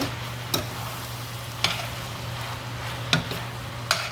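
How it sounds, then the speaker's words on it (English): Small tomatoes are stirred into a chicken, sausage and shrimp stir-fry in a pan, with a low steady sizzle under four sharp utensil knocks or scrapes spaced about a second apart. "I have 2 small tomatoes I also needed to use. I'm going to mix those in here too."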